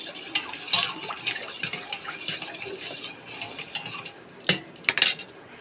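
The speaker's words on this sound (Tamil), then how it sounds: "தேவையான அளவு ஐஸ் சேர்த்துக்கிறேன் சேர்த்துட்டு நல்லா மிக்ஸ் பண்ணி வச்சுக்கலாம்" Ice and juice being stirred together in a glass or jug for a pomegranate juice, with clinking cutlery-like taps against the container and a sharp cluster of clinks near the end, close and moderately quiet.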